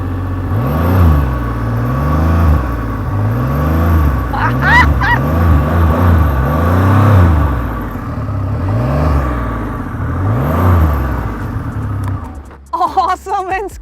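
A Triumph Rocket 3R motorcycle's huge engine is revved repeatedly while the bike stands still, its exhaust note rising and falling in several deep, loud surges. A brief higher whine sounds midway, and the revving cuts off near the end.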